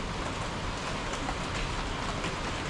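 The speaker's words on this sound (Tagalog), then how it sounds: "Yan na, umuulan na." Steady rain pours down in a dense, even hiss, close and constant, with no voices.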